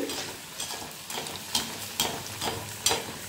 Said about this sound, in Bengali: এইভাবে আমি বাকি বেগুনিগুলো ভেজে নেব